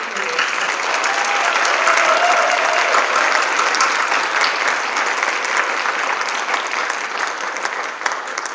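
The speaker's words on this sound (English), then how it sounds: "one more round of applause" A large crowd applauds a graduating class of 2020 at a visual communication showcase, steady loud clapping sustained throughout with faint cheering mixed in.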